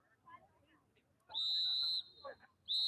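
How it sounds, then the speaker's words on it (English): A referee's whistle at a youth soccer match on Major Abbas Ali Field gives two loud, sharp, sustained blasts, the first about half a second long, the second starting at the end, over faint crowd murmur and brief talk. "As that whistle is blown"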